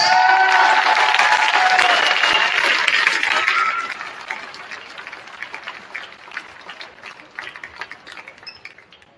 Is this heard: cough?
no